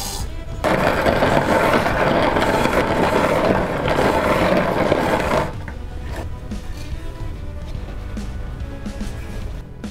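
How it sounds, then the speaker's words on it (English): A KoMo hand grain mill grinds grain into flour on its fine setting, a dense, close, rough crunching and rumbling for several seconds that then drops to sparse, quieter scraping and clicks. "in the next step we will adjust our hand mill to the fine setting"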